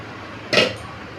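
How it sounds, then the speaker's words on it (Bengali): A lid comes off a pot of fish curry with potatoes in one short metallic scrape and clank, loud and close against a quiet kitchen background. "এবার আমি ঢাকাটাকে খুলে দিচ্ছি।"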